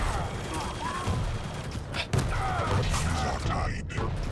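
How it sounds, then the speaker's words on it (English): Rapid machine gun fire and gunfire bursts in a 2v2 team deathmatch video game, crackling steadily for a few seconds under ongoing commentary. "rocket jumping into a lot of machine gun damage"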